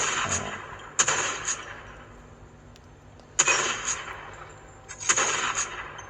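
Gunfire in a mobile shooter game played on a phone, three separate bursts of sharp shots with short trailing echoes, spaced a couple of seconds apart over a quiet steady background.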